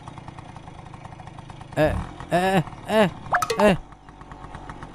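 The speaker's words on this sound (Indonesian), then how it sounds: "Nah, loh, kok mogok nih motor?" A motorcycle engine sputters and coughs through several uneven bursts before dying out, set amid an animated horror cartoon scene, with a voice speaking briefly nearby.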